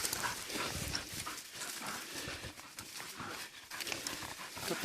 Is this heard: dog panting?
yes